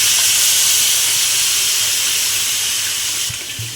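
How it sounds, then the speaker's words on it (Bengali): Water pours in a steady hissing stream into a pot of khichuri made with fish heads and Gobindobhog rice, loud and close, then tapers off near the end. "জল দিয়ে দিলাম।"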